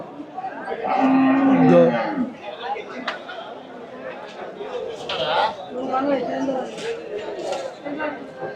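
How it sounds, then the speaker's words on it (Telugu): A cow lets out a long, low moo nearby at a cattle market, with people chattering in the background. "ఇవన్నీ ఆవులు గేదెలే వచ్చాయి ఎక్కువ"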